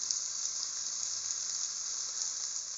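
Fennel seeds, sesame seeds and ajwain sizzle in hot oil for masala khichdi, a steady, close, continuous hiss with no talking.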